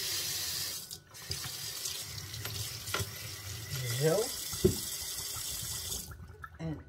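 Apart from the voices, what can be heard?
kitchen tap running into sink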